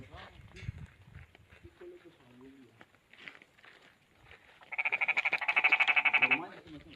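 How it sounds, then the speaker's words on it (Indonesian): Frogs croak in a rapid pulsing chorus at night in a residential area after an earthquake, rising loudly late in the clip after quieter stretches where people murmur nearby. "Kodok."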